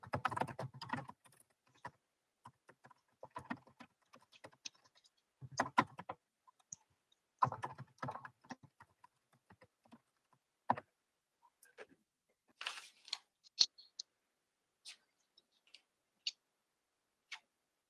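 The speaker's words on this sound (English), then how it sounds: "Let me type him an answer." Fingers tap on a computer keyboard in scattered bursts of quiet clicks separated by pauses, heard alone in an otherwise silent room.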